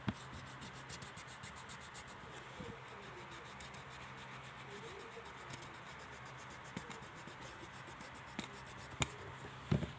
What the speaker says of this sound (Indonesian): Ini kita hapus ya.